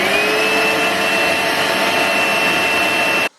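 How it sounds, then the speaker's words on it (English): A vacuum cleaner hoovers debris inside the interior of an abandoned TVR Cerbera barn find, a loud steady whine and roar that runs continuously and then cuts off abruptly. "I am going to hoover up all the crap that's in here"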